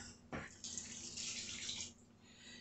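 Broth is poured into a bowl in a steady splashing stream for under two seconds, close and fairly quiet, after a short knock.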